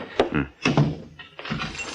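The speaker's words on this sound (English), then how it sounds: "Hey, shut that door." A door being shut as a sound effect in an old-time radio detective drama, heard as a couple of close, loud, hollow thunks in quick succession, followed by a softer rattling settle.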